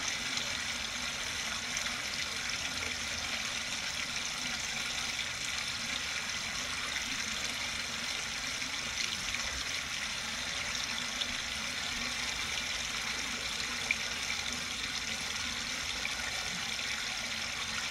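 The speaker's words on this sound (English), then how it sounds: "there's a nice flow of water" Water pours steadily over a dam in a continuous, even rush, moderately close and without talk.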